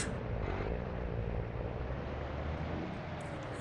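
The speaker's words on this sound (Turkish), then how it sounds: "Ben bu tarz kamyonların seslerini çok seviyorum arkadaşlar" Truck engine running in the video game Grand Truck Simulator 2, a steady, loud low drone held without a break from start to finish, with no voices over it.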